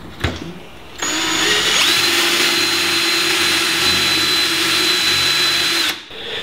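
A power drill bores dowel holes into a wooden workpiece for a lizard cage build, a loud steady high whine running about five seconds alone after a short start, then cutting off.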